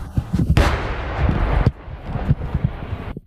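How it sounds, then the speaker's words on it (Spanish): Nearby explosions in a war zone in Ukraine: a loud sharp blast followed by rumbling booms and a second crack, close and harsh, with rolling low echoes between them and no talking. "Las explosiones cercanas ponen un poco nervioso al camarógrafo."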